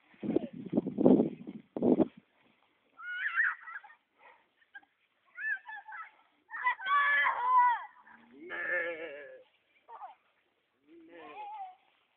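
A man imitates sheep bleating in a farm setting with cattle, giving several wavering, nasal bleats close to the listener, followed by short bursts of talk and laughter.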